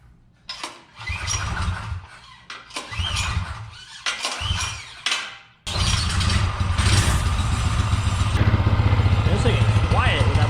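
A small Storm Force engine fitted with a muffler cranks and sputters in several short bursts, then catches and runs steadily, droning close and loud with some squealing; a person talks over it.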